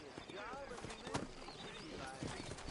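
Horses' hooves clip-clopping at a steady walk in the western video game Red Dead Redemption, set in New Austin, fairly close and quiet, with soft talk and a brief whinny mixed in.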